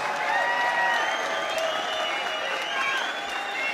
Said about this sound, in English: how about a round of applause for both fighters?